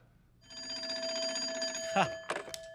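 A telephone bell rings steadily and fairly clearly for about a second and a half, then breaks into a couple of short, sharper bursts at the end.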